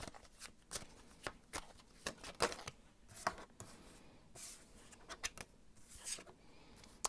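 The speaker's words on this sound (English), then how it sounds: "I'm going to shuffle and see what the cards have to say." A deck of tarot cards being shuffled by hand: repeated quick riffling and sliding bursts at close range, fairly soft, with no talking.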